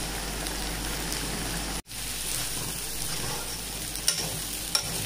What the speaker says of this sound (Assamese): এতিয়া এইখিনি বিলাহীখিনি গলালৈকে ভাজি থাকিব